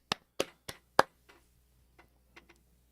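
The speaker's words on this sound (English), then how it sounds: "Applause to everyone." A few sharp hand claps ring out alone, four distinct claps in quick succession and then several fainter, scattered ones trailing off in a quiet room.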